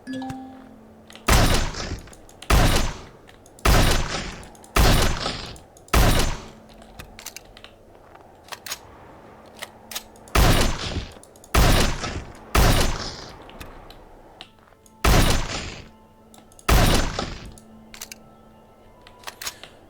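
A shotgun fires in a snowy outdoor setting of the Empyrion Galactic Survival video game, a series of loud, evenly spaced blasts in short bursts of about five, separated by reload pauses, with no speech.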